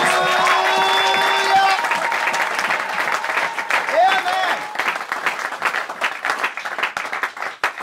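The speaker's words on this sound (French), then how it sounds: "Si vous comprenez, acclamez pour la gloire de Jésus." Church congregation breaking into applause and cheering, a dense wash of clapping that swells, holds loudly, then thins into scattered claps toward the end, with raised voices mixed in.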